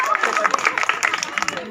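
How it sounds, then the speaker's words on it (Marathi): Audience claps loudly during a home-minister style game show at a Ganpati aarti and mahaprasad event, quick irregular hand claps mixed with crowd noise and talk. "जोरात टाळ्या वाजवायचं आहे."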